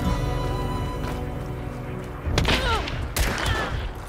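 Gunfire in the western shooter Hunt: Showdown: a steady background hum broken by a couple of loud, sharp shots and booms with ringing tails in the second half, fairly close and distinct.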